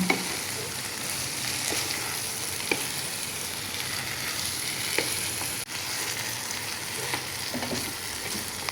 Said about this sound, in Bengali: আমার মশলা ডেরেসে ভালো করে বাজ্যা নিলাম